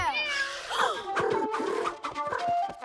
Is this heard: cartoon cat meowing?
yes